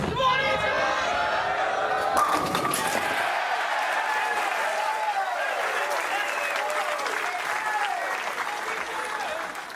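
A large crowd at a PBA U.S. Open bowling final applauds and cheers steadily across the whole stretch, loud and dense, with commentators talking over the noise.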